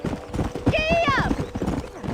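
A horse gallops in Red Dead Redemption 2, with rhythmic hoofbeats throughout and a brief whinny in the middle, heard close alongside a spoken voice.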